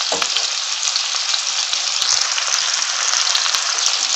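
Carrots sizzle and fry steadily in a hot pan over lowered gas heat, a dense continuous crackle close up with no talking.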